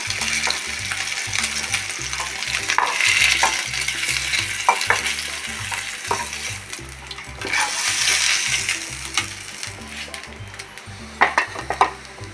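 Chicken frying and being stirred in a pan for chicken chammanthi, a close steady sizzle with rhythmic scraping and metallic clinks of utensil against the pan, a few sharper knocks near the end.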